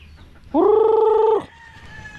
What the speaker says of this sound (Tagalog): yung sisiw natin dyan. Maliliit. Dito yung mga ko natin, mga native.